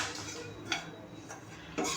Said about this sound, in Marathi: आणि इथं आपण बेसन भाजून घ्यायचं आहे। कोरडंच भाजायचं आहे